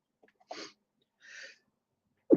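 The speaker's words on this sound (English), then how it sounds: "I'm going to sneeze." A person sneezes from craft dust while painting and assembling a gnome box: a faint sniff, then a brief breathy burst, a softer second puff, and a sharp loud sneeze onset at the end, no talk.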